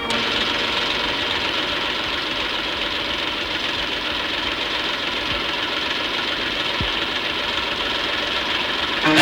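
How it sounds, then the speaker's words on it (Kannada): A tractor engine runs steadily throughout, a continuous knocking, mid-pitched idle-like drone at close range with no talk over it. "ನಿಲ್ಸೋ ಟ್ರ್ಯಾಕ್ಟರ್ನ."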